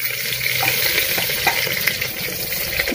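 Onions and green chilies fry in hot oil inside a pressure cooker, a steady close sizzle with faint scraping stirs running evenly throughout without any voice.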